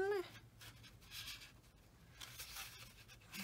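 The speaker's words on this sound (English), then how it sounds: "to crease that with a bone folder so that you know that you got it good and folded" A bone folder creasing and folding paper: brief dry scraping strokes come in several short bursts, close and fairly quiet.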